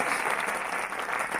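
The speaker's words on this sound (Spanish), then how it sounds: "gracias por el aplauso" Audience applause at a masterclass on agile change management, a short burst of steady clapping from a crowd, even and moderately loud, with no voices over it.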